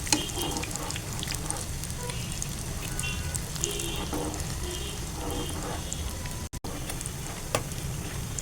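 Bullet chillies frying in a pan give a steady close sizzle throughout, with soft stirring scrapes and brief watery splashes, no voices.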